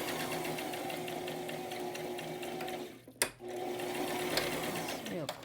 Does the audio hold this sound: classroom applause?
no